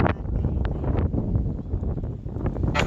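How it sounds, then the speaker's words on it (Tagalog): Steady, rough wind buffeting the microphone, a continuous low rumble with gusty swells throughout. "Medyo malakas yung hangin."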